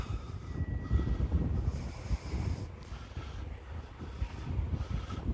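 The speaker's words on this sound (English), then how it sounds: "the wind is coming almost straight on now." Steady wind rumbles and buffets across a microphone at an open RC plane flying field. The low, continuous gusting noise swells and eases without a break.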